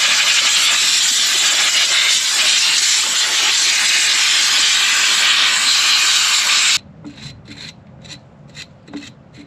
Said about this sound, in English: It'd be good to get that air blower.